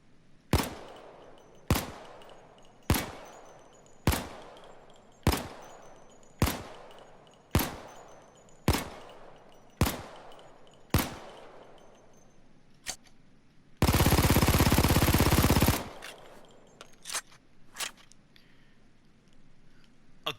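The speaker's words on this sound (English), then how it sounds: "firing off with the MAC-10" MAC-10 submachine gun fired at a firing range in Payday 2, a steady series of about a dozen sharp single shots spaced roughly a second apart, then a dense two-second full-auto burst and a few trailing shots.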